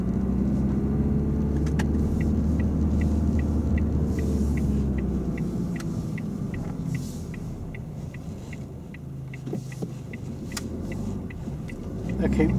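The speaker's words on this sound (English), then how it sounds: "if you can start up the car for me. All right. And then just move off in your own time." A learner driver's car idles with a steady low engine rumble and throb that shifts as it pulls away on a residential road, accompanied by a regular ticking indicator, with voices talking over the engine.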